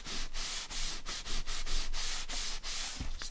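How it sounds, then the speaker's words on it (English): A towel rubs firmly over a glued black card folio journal, making steady, close, scratchy strokes in a repeated back-and-forth rhythm, with a soft bump near the end. "I'm just rubbing over this with a towel just in case there's any excess glue"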